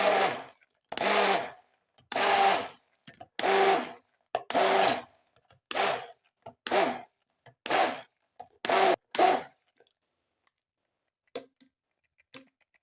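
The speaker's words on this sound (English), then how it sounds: "Use your stick blender to mix it for 1 minute." A stick blender whirs in a series of short pulses, about a dozen bursts in a steady rhythm, close and fairly loud, mixing coconut oil soap, then stops.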